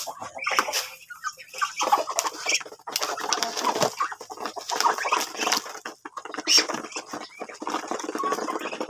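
Ducks on a farm being fed, a busy mix of quacking, chattering calls and pecking patter, close and continuous with short gaps.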